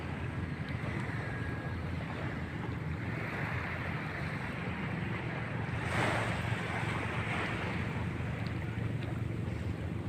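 Sea waves wash against the shore in a continuous roar mixed with strong wind buffeting the microphone, loud and steady with one surge swelling midway.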